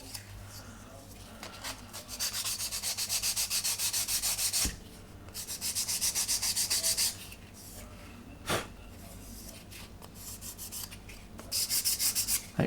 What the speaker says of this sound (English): And then sand that back.